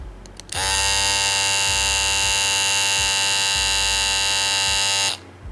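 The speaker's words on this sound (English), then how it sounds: "I'll also give you a sound comparison with my cordless outliner." An Andis cordless hair outliner with a rotary motor switches on and hums steadily for about four and a half seconds, loud and close, with a bright buzzing whine, then cuts off.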